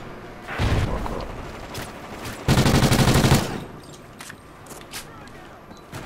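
Gunfire crackles in a video game firefight, a short burst followed by a louder, denser volley lasting about a second, over continuous background noise and faint talk.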